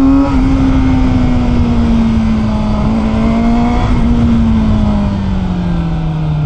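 A loud, close inline-four engine on a Kove 450RR motorcycle drones steadily, its pitch holding high and then sagging slightly, with no talking.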